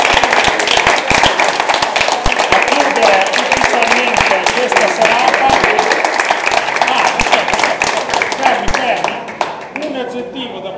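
Audience at an evening show claps in a loud, dense burst of applause throughout, with a presenter's voice speaking over it before the clapping thins near the end.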